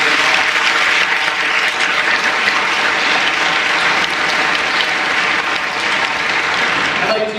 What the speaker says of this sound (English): Let's give them a round of applause now.